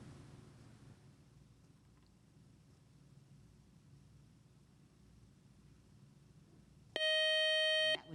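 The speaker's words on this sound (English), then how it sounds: "That buzzer means a good job so far by our teams" After several seconds of faint background hum, a loud electronic quiz show buzzer blares for about a second.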